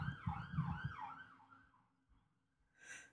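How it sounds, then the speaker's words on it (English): A wailing emergency siren rises and falls in the distance, fading away, followed by a brief breathy sound close by. "sirens on that side"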